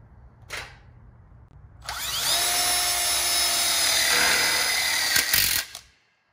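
A power drill drives screws into the catcher track of a wrap-around backsplash and split bar kit, a brief tap, then a loud sustained whirring run that winds down abruptly.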